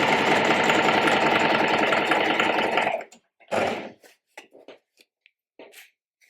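A sewing machine stitches stretched fabric along the shirred back waistline of a beginner-friendly Flora dress, running loud and steady for about three seconds before stopping, followed by a short burst and scattered faint handling clicks.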